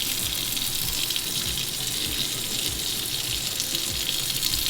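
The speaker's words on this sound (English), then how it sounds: "then I'm gonna put the cold water in" Cold water runs steadily from a faucet into a sink where makeup sponges are being rinsed, a continuous close hiss and splash filling the whole stretch without talk.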